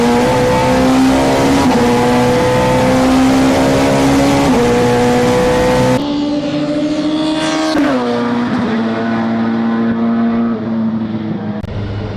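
A Nissan super touring race car screams at high revs around Brands Hatch, the engine note climbing through gears, dropping briefly on a downshift, then surging back on the power, loud and close.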